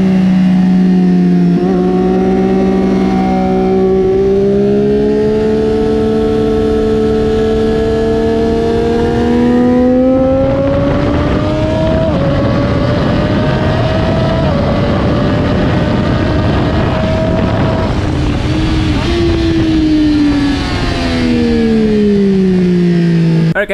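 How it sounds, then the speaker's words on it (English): A track motorcycle roars loudly at close range during a race-track session, its engine pitch climbing through repeated upshifts and then dropping as the rider slows, with wind rush throughout. "let's go and have some fun on our motorcycle."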